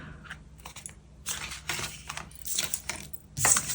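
Reading cards are shuffled by hand nearby, a run of papery riffles and soft slaps in uneven bursts, growing louder toward the end.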